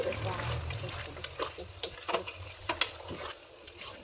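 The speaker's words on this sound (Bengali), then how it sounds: "জলটা দিয়ে ভালোভাবে মতো নেড়ে নিতে হবে।" Jackfruit curry stirred in a pot just after hot water is poured in, with soft scraping and clicking strokes close by under a person talking.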